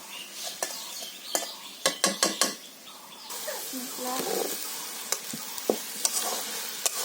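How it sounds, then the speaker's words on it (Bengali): Potatoes and eggplant tipped into a pan of sizzling spices for a katla fish curry, with sharp clatters of a utensil against the pan followed by steady frying and stirring up close. "এবার বেগুন আর আলু দিয়ে দেবো"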